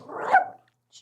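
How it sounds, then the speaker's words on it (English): A dog gives one loud, close bark indoors in an office, followed by a brief faint yelp. "I think there's another dog that came yeah, in."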